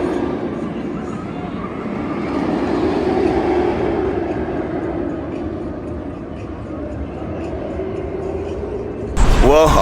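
GateKeeper roller coaster train rushing along its track on a test run with water dummies aboard, a steady loud rumbling roar that swells and eases, with a sharp whooshing burst near the end.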